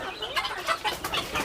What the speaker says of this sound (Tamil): கின்னிக்கோழி, வான்கோழி,